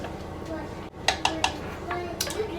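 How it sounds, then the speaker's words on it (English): Slow cooker chili being stirred in a pot, with several sharp clinks of a spoon against the metal and a few softer scrapes, fairly close, over a low background hum and faint voices. "I'm just gonna give this a quick stir"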